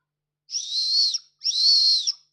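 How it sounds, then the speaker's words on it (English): Two shrill, steady blasts from a small metal whistle, each about three-quarters of a second, with a short gap between them; close and fairly loud, no voices. "And then there's a whistle."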